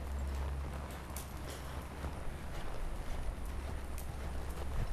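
A horse lopes along under a rider, hooves giving a steady rhythmic clip-clop over a dense, loud outdoor background of wind or ground noise.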